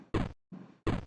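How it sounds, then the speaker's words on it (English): Three short, crunchy 8-bit crash blasts from a video game, the middle one softer, separated by brief silences with no voices. "Crash 3 is this a bit more 8-bit"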